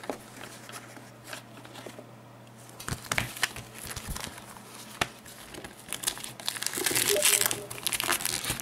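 Wrapping paper crinkles and crumples in irregular bursts as a birthday parcel is unwrapped indoors, growing busier and louder toward the end.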